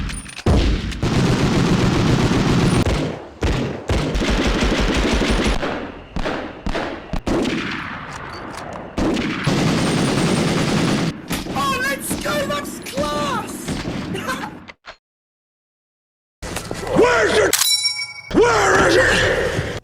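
Heavy 12-gauge shotgun blasts and metallic clangs from the Medal of Honor video game, loud bursts of gunfire in quick succession with reloading clatter and brief silent gaps, no talk.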